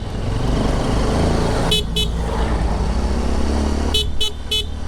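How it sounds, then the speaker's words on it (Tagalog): A Honda CRF150 motorcycle horn honks twice, then three more quick beeps, over loud steady road traffic and engine noise. "Sarap ng busina eh."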